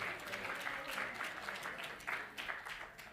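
A congregation at Friday Shabbat services claps for sponsors honouring a 53rd wedding anniversary, a moderate burst of applause that fades slightly and then swells again near the end.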